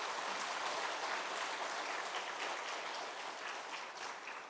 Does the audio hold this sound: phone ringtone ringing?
no